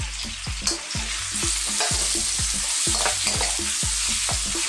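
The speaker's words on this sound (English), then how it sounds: "Then I go with some chopped bacon. I'm using a smoked bacon." Chopped smoked bacon, onion and garlic with bay leaves fry in olive oil over lively heat, a steady loud sizzle broken by a regular run of sharp stirring scrapes and taps against the pan.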